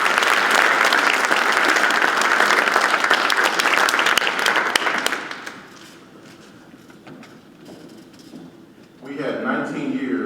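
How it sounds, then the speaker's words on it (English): Enthusiastic applause at a chamber of commerce annual banquet for two young women, loud dense clapping for about five seconds that drops to scattered claps and room murmur, then a voice begins speaking. "Would you give them a round of applause?"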